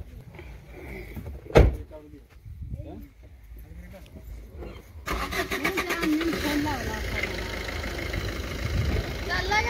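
A Maruti Suzuki Swift Dzire car door thuds shut, then after a short pause the engine cranks and catches into a steady close idle, with people talking before and over it.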